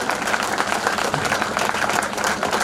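Applause at a school annual function in Bhatbigha, a dense steady clapping from the audience that carries on throughout without a break and with no voices over it.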